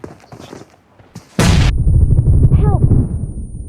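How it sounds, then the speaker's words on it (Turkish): A grenade detonates in the PUBG Mobile battle royale game, a sudden loud blast with a long rumbling tail, following a few sharper, quieter gunshot cracks. "Bomba attı çık oradan."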